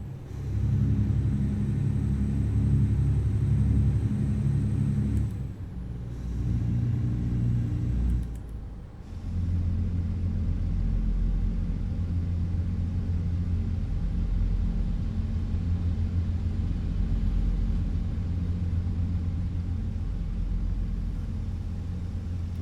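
Freightliner Cascadia truck engine in American Truck Simulator: a steady deep diesel drone with low rumbling harmonics, briefly dipping twice as if shifting gears, then holding a constant loud cruise.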